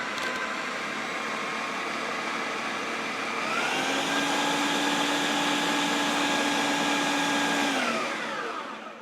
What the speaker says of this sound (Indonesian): Nah, ini kita blender lagi ulang.